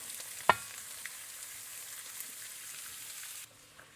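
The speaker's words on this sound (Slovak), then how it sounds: "Keď bola bravčová masť dostatočne horúca, pridal som do pánvice nakrájanú cibuľu a mrkvu." Chopped onion and carrot frying in hot pork lard in a pan, a soft, even crackling sizzle heard close but faint, with one brief clatter near the start and no talk.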